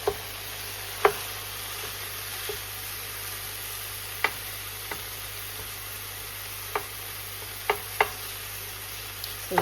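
Beef mince frying in a pan with carrots and onions, a soft steady sizzle broken by scattered sharp knocks and scrapes of stirring at close range.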